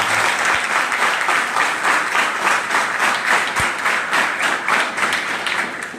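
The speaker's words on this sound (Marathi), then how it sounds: "ज्या टाळ्या आज तुम्ही या सागर आणि इतर मान्यवरांसाठी वाजवत आहात" A seated audience at a student guidance event in Pune applauding guests, a dense, steady wash of many hands clapping together, loud and continuous throughout.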